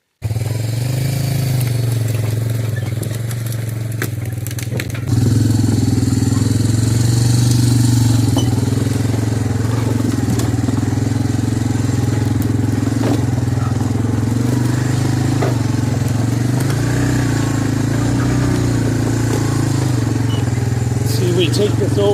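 A three-wheeler ATV engine drones steadily while hauling a loaded logging trailer over rough wooded trail terrain, a low continuous rumble that steps up louder after a few seconds and holds, with talk over it.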